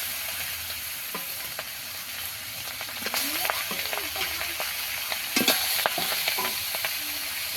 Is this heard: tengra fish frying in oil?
yes